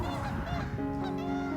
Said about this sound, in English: we usually have 4 Canadian geese visit us every spring